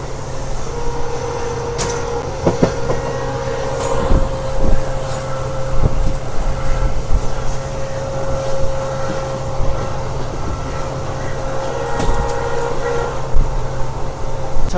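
Train running from Rameswaram to Mandapam on the Pamban route, a continuous rumbling rattle of coaches with a steady tone and occasional clanks, loud and close from inside the carriage.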